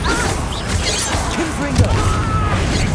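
A Bombarda blast spell goes off amid a dense, busy Hogwarts Legacy combat mix, landing as a sharp crash-like thud partway through over continuous game noise, with a voice briefly present.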